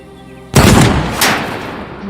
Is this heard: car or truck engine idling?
no